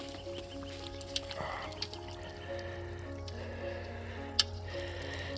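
Whole chickens pushed down into a tub of water, giving soft sloshing drips and a few small splashes, close and quiet, with light background noise and no talk.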